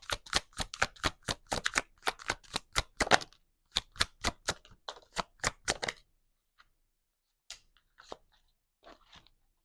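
Tarot cards shuffled in quick, crisp riffling bursts, a rapid run of sharp snaps that pauses and resumes, then a few sparse soft taps as cards are drawn and laid down, close and unaccompanied by talk.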